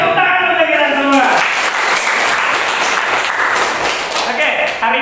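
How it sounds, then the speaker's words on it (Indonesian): A class of students applauds in a dense, sustained burst of clapping that carries for several seconds, with a teacher's voice talking briefly at the start. "tepuk tangan untuk kalian semua"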